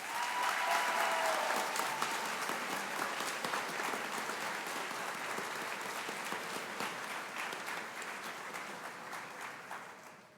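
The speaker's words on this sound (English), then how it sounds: "give these graduates a well-deserved round of applause" Sustained applause from a large crowd for graduates at a graduation ceremony, steady and dense clapping lasting the whole stretch before tapering slightly at the end.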